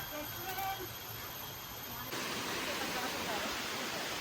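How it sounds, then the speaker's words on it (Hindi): A waterfall in Bali roars as a steady, dense rush of falling water, loud and continuous, growing fuller partway through. "वाटरफॉल।"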